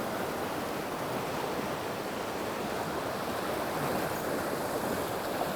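Fast, turbulent river pocket water rushing over rocks, a dense, steady roar of broadband noise with no breaks, loud and close throughout.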